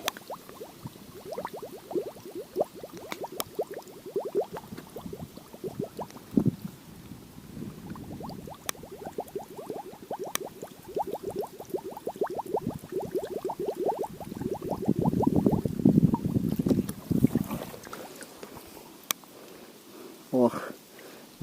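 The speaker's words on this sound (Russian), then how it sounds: "Вот так вот идет процесс набора воды" Water being collected from the Pripyat river, rapid repeated gurgling glugs as a container fills, with a louder burst of rushing water near the end and splashing, close by and alone without voices.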